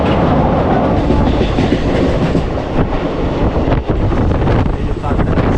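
The 12363 Kolkata–New Jalpaiguri Intercity Express rides through a long curve, a loud continuous rumble with rhythmic wheel clatter and wind buffeting heard from inside the coach, with a voice faintly present.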